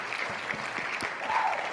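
Applause sound effect playing at the end of a name wheel spin, a short burst of clapping at moderate level with no talking over it.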